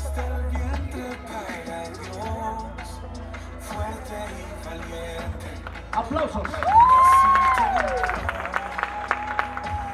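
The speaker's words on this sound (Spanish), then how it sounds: "Aplausos, señores, aplausos." Guests clap and cheer at a quinceañera, moderately loud applause rising over an announcer's voice and music, with a whoop or whistle near the end.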